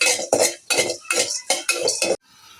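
Dried shrimp is lightly fried in a pan, heard as roughly six loud, rhythmic bursts of a utensil scraping and tossing against the pan, close by, followed by a faint sizzle.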